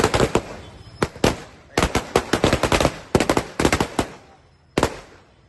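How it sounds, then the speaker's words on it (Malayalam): Firecrackers burst in rapid clustered volleys during a street celebration by UDF party workers in Mannarkkad town, sharp loud cracks in bursts separated by brief pauses, no voices audible. "ടൗണിലും പരിസര പ്രദേശങ്ങളിലും പ്രവർത്തകർ പടക്കം പൊട്ടിച്ച് ആഹ്ലാദം പ്രകടിപ്പിച്ചു."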